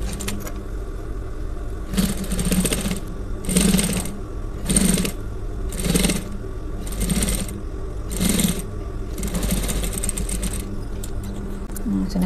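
A sewing machine stitches a shirt collar in bursts, about seven short runs of rapid mechanical whirring separated by brief pauses, close and fairly loud over a low background hum.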